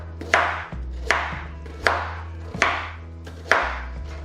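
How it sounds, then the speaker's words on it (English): Carrots are roughly chopped with a knife on a board: five crisp, evenly spaced strikes, close and loud, with no talking, during preparation of a rustic chicken tray bake. "Again, roughly chop."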